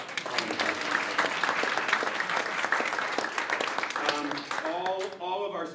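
Audience at a public schools integration and equity event applauds the speakers, a steady, dense wash of clapping lasting several seconds before tapering, with a voice emerging at the very end.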